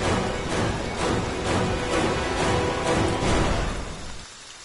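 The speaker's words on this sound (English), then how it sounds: "Okay, so we got our rain." Steady broadband hiss of rain falling in the Friday the 13th video game, a dense, continuous wash that holds evenly before thinning out at the very end.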